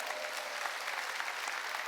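A church congregation at a summer mountain revival meeting applauds, a continuous, fairly distant wash of many hands clapping with no distinct individual claps.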